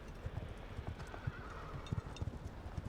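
A horse's hooves beat a quick, rhythmic clip-clop on the ground during a show jumping round at an eventing competition, heard at moderate distance over a faint outdoor background.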